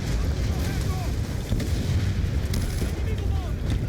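Gunfire in a Call of Duty Black Ops match, dense continuous booming shots and blasts filling the whole stretch, loud and close with no pause.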